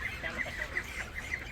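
A grey-and-white Chinese goose on a farm honks in a rapid run of nasal calls, close and fairly loud, with no talking.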